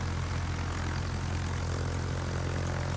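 Propeller bomber aircraft engines in the World of Warships naval combat game drone steadily and loudly throughout, a continuous low engine hum with no talking.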